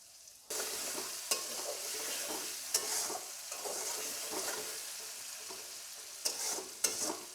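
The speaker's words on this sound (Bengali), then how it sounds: "আলুটা ভাজা হোক, 2-3 মিনিট লাগবে আলু ভাজতে।" Potatoes fry in a pan with a steady, close sizzle, punctuated by several sharp scraping clicks from stirring.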